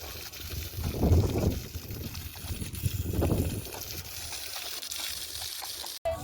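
Water poured over the ground outdoors in a rural yard, splashing in two broad surges amid faint background hiss, moderately quiet and close.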